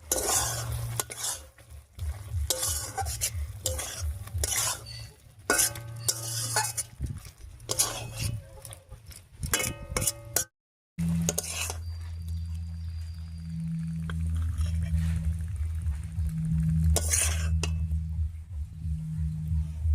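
A spoon stirs a flat bean curry in a pan, with scraping and clinking against the metal over a low sizzle. A low hum runs underneath, and after a brief silent gap the stirring goes on, fairly quiet.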